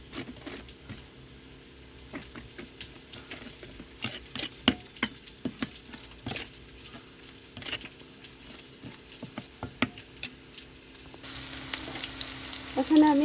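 Spice paste of turmeric and Kashmiri chilli powder mixed with water sizzles in hot oil for a fish curry with potato and green banana, a steady close frying hiss broken by frequent scraping stirs, growing louder near the end.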